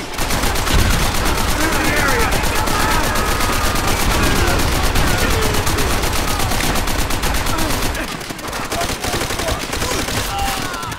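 Machine gun fire from a mounted MG in the video game Call of Duty: World at War: a dense, loud, continuous rattle of rapid shots, briefly thinning near the end before resuming.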